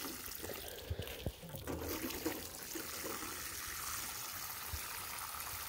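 Soft, fairly faint trickling and pouring of nutrient water into plants in felt pots, with a few light knocks and splashes near the start and a continuous gentle flow after that.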